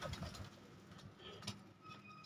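Pigeons in a loft coo softly, low throaty calls repeating faintly against background room noise and a distant hum, with no talk over them.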